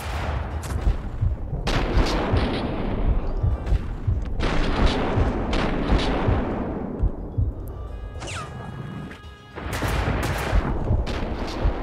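Gunfire in the video game Max Payne 2, with loud repeated shots and booming bursts in a dense firefight that runs through the whole stretch and eases briefly near the end.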